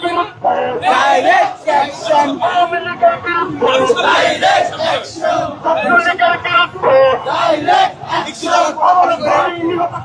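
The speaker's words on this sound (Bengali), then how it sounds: "আজকের এই কফিন মিছিলে স্লোগান দিচ্ছেন তারা" Crowd of protesters at a coffin procession in Bangladesh, chanting slogans in loud, rhythmic, repeated call-and-response bursts that carry on continuously.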